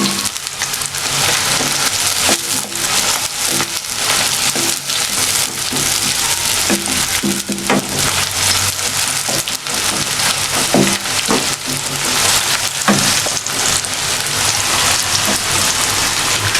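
Sliced onions frying lightly in a pan, a dense, loud and steady crackling sizzle that runs unbroken throughout, with scattered sharper pops and occasional stirring knocks.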